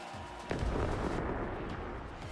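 Booming barrage blast from a lurking Copycat in a competitive team video game match, a sharp loud impact followed by rumbling, crackling fire that sustains for a couple of seconds.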